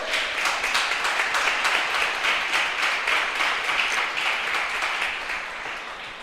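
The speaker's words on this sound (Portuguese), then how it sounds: "Você pode aplaudir o nome do Senhor?" A church congregation applauds during a sermon: steady, dense clapping from many hands, moderately distant, running evenly without voices before easing slightly at the end.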